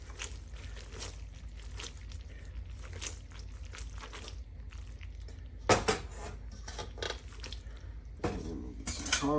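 Amatriciana pasta with Romano and Parmigiano Reggiano cheese tossed in a pan with tomato sauce, giving repeated soft scrapes and clatters of metal against the pan, with a few louder knocks.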